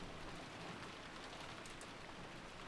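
Steady wind and heavy rain in a stormy night scene from the Umineko visual novel, a constant hissing downpour with no pauses, fairly faint.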